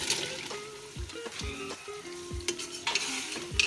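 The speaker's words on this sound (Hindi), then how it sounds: "अब हम इसमें लौकी डाल लेंगे।" Bottle gourd tossed into ghee-rich spice masala for a dhaba-style lauki chana dal, with steady sizzling under repeated scraping stirs of a spoon against the pan, close and fairly loud, no talking.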